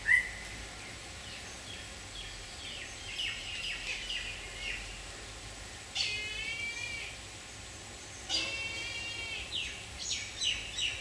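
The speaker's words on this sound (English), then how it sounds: "Check out that bird, eh?" A bird calls in a no-dig garden, giving repeated bright chirps and short trilled phrases in bursts spaced a few seconds apart over quiet outdoor background hum, moderately near and clear.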